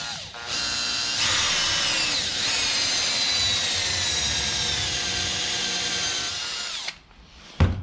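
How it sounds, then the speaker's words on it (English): A power drill with a step drill bit whines steadily at high speed for several seconds, biting through material, then winds down and stops. "we're just going to use that to drill in the middle"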